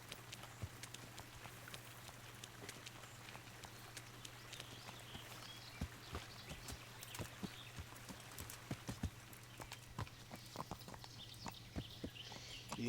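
Horse hooves clip-clopping slowly along a riverside path in a video game, early-morning setting, irregular faint steps over a low steady hum with no talk.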